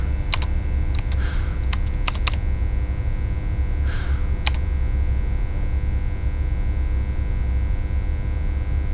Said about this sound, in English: his trembling fingers type the commands